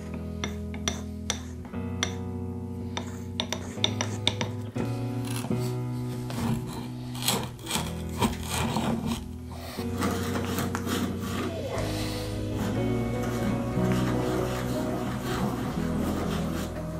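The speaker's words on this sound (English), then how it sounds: "we now need to give it a quick test run to actually make sure that this thing drills" Millers Falls No. 12 hand-cranked breast drill boring into wood, a slow continuous rasping and creaking with light clinks of the gears, steady throughout with faint background tones.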